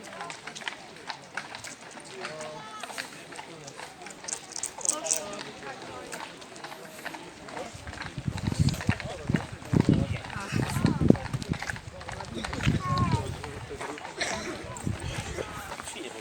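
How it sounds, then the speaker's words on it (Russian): Horses walk along a forest trail in the Polish Tatra mountains, their hooves clip-clopping in an uneven rhythm that grows louder as they come closer, with people talking over the sound. "О, лошадки."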